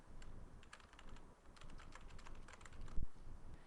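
Rapid clicking of a computer keyboard as notes are typed into a work order's notes field, in uneven bursts of keystrokes with short pauses. The clicks are close and moderately quiet, with no talking.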